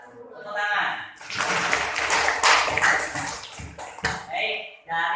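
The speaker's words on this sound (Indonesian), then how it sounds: "Tepuk tangan." Primary school pupils in a classroom break into brief, lively applause after a group presentation, clapping bursting in after a spoken line, with voices before and after it.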